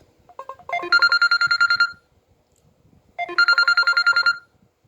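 An incoming call sets a phone ringing in two loud electronic bursts, each a rapid warbling trill lasting about a second, with a short pause between them.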